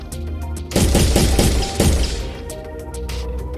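A burst of rapid gunfire from an assault rifle in an Unreal Engine 4 game, a dense volley of loud shots lasting about a second, then quieter clicks and mechanical weapon-handling sounds.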